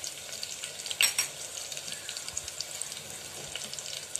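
Asafoetida added to the hot tempering for dal, bringing a continuous near sizzle with a brief louder spit early on and light stirring under the frying hiss.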